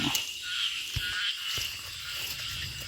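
Frogs croak in flooded rice paddies at night, around eight o'clock, during frog hooking in the fields: a steady chorus with a high insect-like buzz and a few louder, close croaks standing out.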